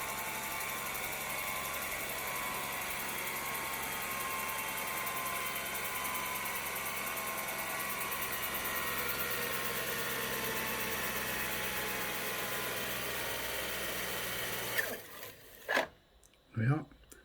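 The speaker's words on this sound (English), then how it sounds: "if I do zero locate, let's see how accurate this thing is" Motors in a Fostex R8 multitrack tape recorder spin the reel back to zero with a steady, close whirring hum that holds level for about fifteen seconds, then stops abruptly, followed by a couple of brief mechanical clunks.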